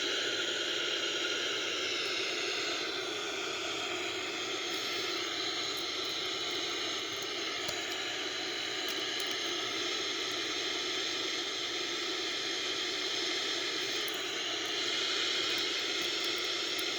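Steady broadband roar of a Boeing 787 airliner descending toward the airport on an instrument approach, a constant even engine and airflow hiss with no voices.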